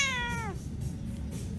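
A pet cat named Salem gives a single clear, rising-then-falling meow lasting about half a second, close to the microphone, followed by a low steady room rumble.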